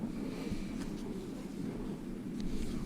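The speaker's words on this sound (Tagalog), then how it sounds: "Hangin lang yun." Faint, steady wind rumbling low and continuous, with no voices over it.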